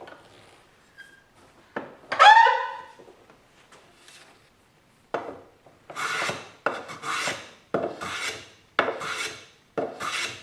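Hand plane taking ultra-thin shavings off the freshly sawn end grain of a board held in a vise, a few separate rasping swipes close by after some quieter handling noise, with no speech.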